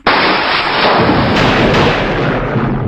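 Loud, continuous roar of thunder with heavy rain arriving over Lake Eğirdir, seen from a hilltop lookout; a dense broadband rumble holds steady and near for the whole stretch.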